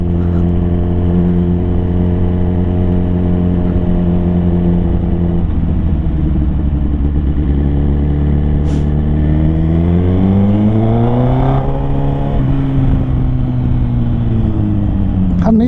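A Suzuki GSX-R1000 motorcycle, registered in 2015 and without ABS, drones loud and close while riding, its engine note holding steady before climbing through rising revs and easing back down.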